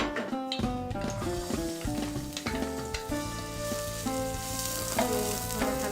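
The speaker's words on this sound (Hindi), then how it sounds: "थोड़ा सा तेल डालेंगे। अभी हम इसमें प्याज डालूंगी।" Onions hit hot oil with tamarind juice, turmeric and black pepper in a pan, a bright continuous sizzle broken by stirring scrapes and clinks of a spoon against the vessel, close and fairly loud.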